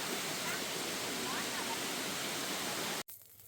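A hot stream waterfall in the jungle near Krabi, Thailand, gives off a dense, steady roar of rushing water, loud and close, that cuts off abruptly near the end into quieter ambience.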